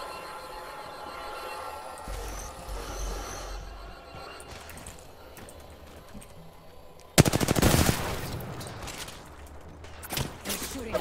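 Enemy gunfire in the battle royale shooter Apex Legends erupts suddenly as a loud, dense burst of rapid shots, then trails into scattered later bursts over game ambience.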